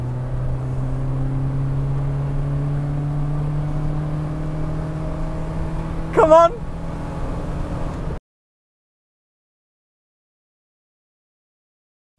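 An Austin Metro with its A-Series engine accelerates from about 13 mph in third gear, a steady, rising engine drone heard from inside the car, with a brief voice near the end before the sound cuts off.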